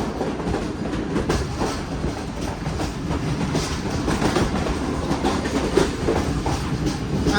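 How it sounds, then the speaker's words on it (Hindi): Passenger train on the Multan to Karachi line running at speed through a station, a steady rattling clickety-clack of wheels over rail joints heard from inside the carriage, loud and continuous without talk. "तो काफ़ी अच्छी स्पीड में ट्रेन ने स्किप किया है।"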